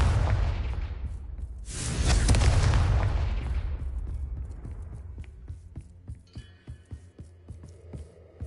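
A Confringo fire spell in Hogwarts Legacy bursts with a loud, deep booming explosion whose heavy rumble swells and slowly dies away, then gives way to a string of faint, evenly spaced clicks.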